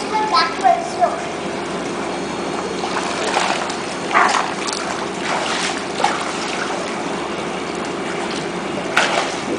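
Water splashing and trickling in a pool as a child swims backwards, with intermittent splashes and a voice calling out over steady background water noise.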